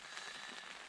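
Rain falls on a tent with a rain fly in a remote mountain backcountry, a faint, steady hiss and patter with no voices.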